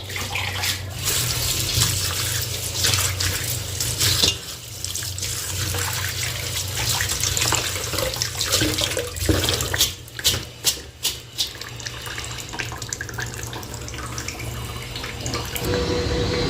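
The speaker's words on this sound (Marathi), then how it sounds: "स्वच्छ पाण्याने आता धुवून घेते" Tap water runs steadily in a kitchen as freshly picked curry leaves are rinsed in clean water, a continuous close splashing with small drips and shifts in flow.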